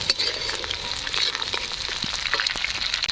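Green peas and vegetables stirred in hot oil in a wok for fried rice, a steady close sizzle broken by repeated scraping and tossing clicks throughout, with no talking.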